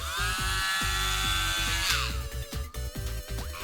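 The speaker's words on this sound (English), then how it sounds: "time for the power tools." A power tool buzzes while carving into a pumpkin, a high whirring motor tone with rhythmic grinding pulses as the bit cuts, close and loud, stuttering more in the second half.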